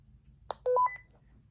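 A short electronic beep sequence from a walkie-talkie being switched on: a brief tone followed by two quick steady tones, clear against a low hum, then quiet.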